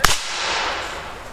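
A volley of Civil War muskets fired by infantry reenactors at a battle reenactment: one sharp nearby crack that trails off into a long, rolling, hissing echo.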